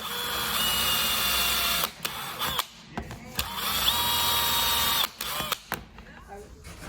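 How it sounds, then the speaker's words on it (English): A power drill boring holes in wood, a high whirring in several bursts of a second or two, separated by short pauses with clicks and handling noise. "So I'm going to get all of these drilled"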